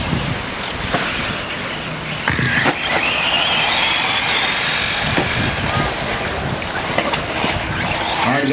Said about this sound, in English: white truck, yellow wheels, just about coming over the rollers there